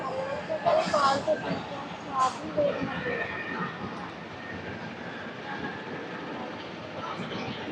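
A goods train rumbles past a crossing with a steady, broad roar and clatter; voices talk over it early on.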